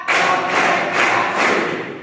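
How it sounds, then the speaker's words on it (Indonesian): A classroom of students claps together in a steady rhythm, about four loud, broad claps over two seconds, close and with no talking. "Tepuk 1, tepuk 2, tepuk 3, tepuk 4."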